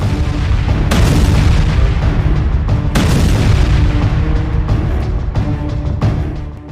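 Heavy rocket barrage explosions strike army barracks and gatherings in wartime, a dense continuous rumble of loud booms with sharp blasts standing out near the start and again a few seconds in, with no voices.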